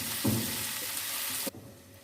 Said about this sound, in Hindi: अभी हम वेजिटेबल को हल्का सा फ्राई कर लेते हैं।